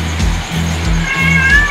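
Siamese cat meowing in short, repeated calls, close and fairly loud over a steady low background hum, with a thin whine near the end.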